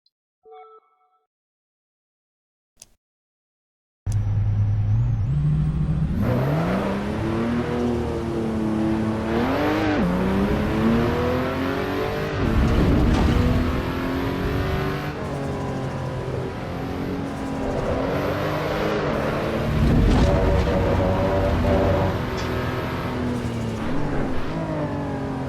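A Lotus race car in Assetto Corsa Evo drives on track. After a few seconds of near silence and a couple of small clicks, the engine bursts in loud and close, revving steadily with rising and falling pitch sweeps as it shifts through gears.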